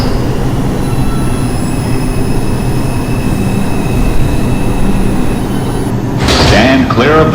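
Loud rumble of a New York subway R142 train running through 14 Street station, with a sharp burst of high wheel squeal and screeching near the end of the clip.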